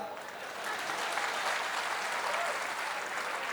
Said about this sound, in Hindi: ताली कम क्यों आई साहब?